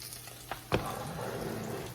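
Tuna cakes frying in a pan give a steady, close sizzle that swells after a brief clatter, holding even and moderately loud with no voices over it.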